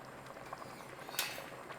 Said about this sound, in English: It's already come to a boiling, look.